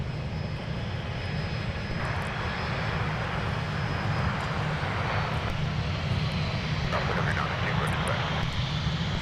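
Loud, sustained roar of an Airbus A350 jet taking off at Minneapolis–Saint Paul airport, a broad steady rumble that holds throughout, with faint voices underneath.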